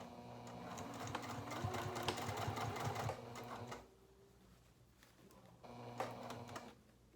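A sewing machine stitches a narrow seam closing a coin purse in rapid mechanical bursts, pausing briefly before a shorter final run, close and fairly quiet.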